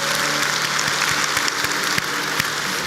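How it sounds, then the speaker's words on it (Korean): Congregation clapping during a church service in Ansan, a dense, steady wash of many hands at moderate loudness that holds evenly for about three seconds with no voices over it. "우리 박수로 하나님께 영광 돌려드립니다"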